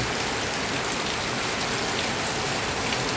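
Heavy rain pours over rice fields during a storm in Laos, a dense, unbroken hiss of downpour, loud and steady throughout with no voices.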